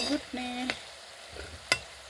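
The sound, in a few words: food frying in hot oil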